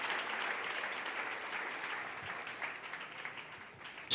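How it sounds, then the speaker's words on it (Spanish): A church congregation applauding during an evening service, a broad, even rush of many hands clapping at moderate distance, slowly thinning toward the end. "Dale ese aplauso al Señor en esta preciosa noche."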